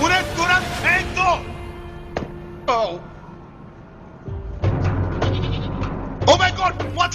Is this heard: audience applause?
no